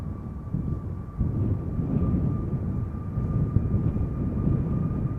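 A jet airliner rolls for takeoff at Schiphol Airport, its steady, loud low engine roar building and sustained throughout, with wind buffeting the microphone.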